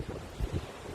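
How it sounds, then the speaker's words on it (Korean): Ocean waves wash against a shore outdoors in nature, a steady low rumble with soft surges, muffled by wind buffeting the microphone. No voices are heard. "이렇게 파도 소리에 이 멋진 자연에 그냥 기대어 보고 싶은 거예요"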